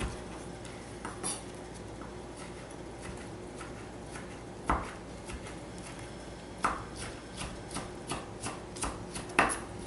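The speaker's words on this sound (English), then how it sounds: "And then we're just going to chop up our tomato." A knife chops a tomato on a board while guacamole is made, with a few sharp taps and a closing run of quicker, irregular cuts over a low, steady kitchen background.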